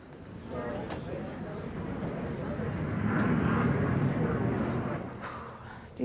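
An airplane landing roars steadily in the distance, building to a broad rumbling peak before easing off, with people talking nearby.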